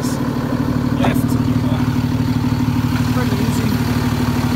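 A Cummins diesel engine idles in an International 4300 flatbed truck with the hood open, a steady close, loud rumbling clatter throughout, with a couple of brief sharp sounds over it.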